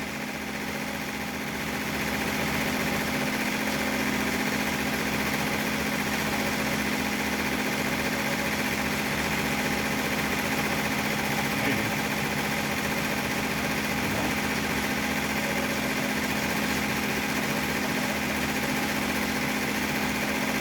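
An embroidery machine stitches underlay and then satin stitches, producing a steady mechanical hum and fast, even vibration that starts softly, then holds at a constant close level with no talking.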